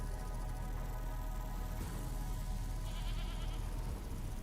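Sheep bleating in the video game Vintage Story, a few drawn-out bleats half buried under loud, continuous game music.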